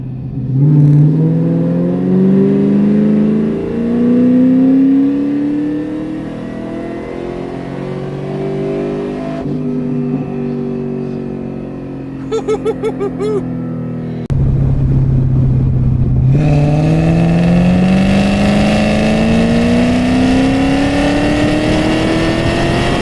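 A Cadillac CTS-V engine revs hard at full throttle and climbs in pitch through the gears, loud and close, with a brief lull and a gear change midway.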